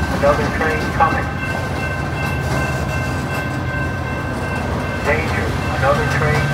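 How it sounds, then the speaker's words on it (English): A Metra commuter train rolls through Elmhurst station as a steady, loud rumble with rail noise and faint tonal hum running the whole time, building slightly toward the end. "Danger, another train coming."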